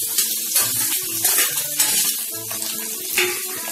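Potatoes go into a hot pan of oil seasoned with cumin, asafoetida and turmeric, setting off a loud, close, steady sizzle and hiss with a few sharper spits and clatters.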